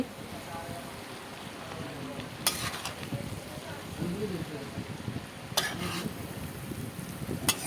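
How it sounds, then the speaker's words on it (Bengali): Chow mein tossed and fried with spices in a pan gives a continuous sizzle, broken by a few sharp utensil scrapes and clacks, while a voice murmurs faintly in the background. "এখন চাউমিনটাকে ঢেলে দেওয়া হয়েছে এখন সব একসাথে ম্যারিনেট করা হবে মশলার সাথে সব একসাথে"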